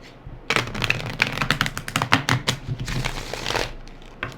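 A tarot card deck being shuffled by hand, a rapid run of crisp riffling card clicks and slaps that comes in bursts across the clip, close and fairly loud, with no speech.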